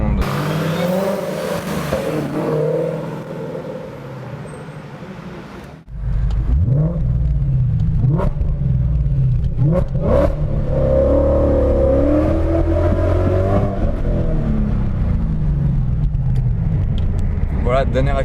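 An 825-horsepower Sutton Mustang accelerates hard, first a muffled steady hum, then a sudden surge into loud, rising engine roar with repeated gear-shift pulses, staying close and intense to the end.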